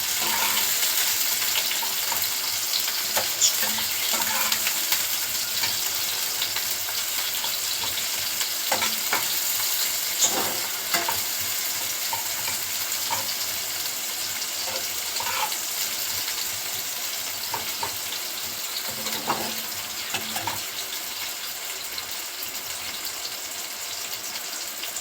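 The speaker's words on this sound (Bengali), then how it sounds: "পেঁয়াজ কুচি দিয়ে দেবো। পেঁয়াজটা হালকা লাল হবে।" Chopped onion frying in oil in a pan, a steady bright sizzle running the whole time with occasional louder crackles and stirring scrapes, close and continuous with no talking.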